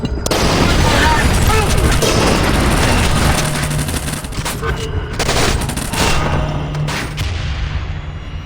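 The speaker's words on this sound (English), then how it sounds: "Grenade! Take cover!" Grenade blast and heavy, sustained gunfire in Splinter Cell: Conviction, a loud continuous barrage of bursts and booms that stays dense throughout, with shouted voices mixed in.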